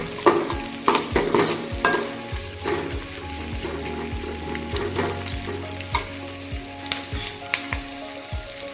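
Onion and garlic roasting in a pan for a rice dish, a constant sizzle broken by regular scraping strokes of a spoon stirring, close and moderately loud, no speech.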